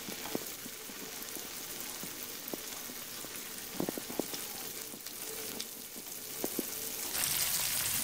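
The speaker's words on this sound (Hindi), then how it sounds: "इसी तरह आप साथ साथ जितने इजीली फ्राई कर सकते हैं चिकन पीसेस ऐड करते जाएंगे।" Chicken pieces deep frying in hot oil for crispy fried chicken, a steady close sizzle with scattered crackles and pops that swells louder near the end, with no voices.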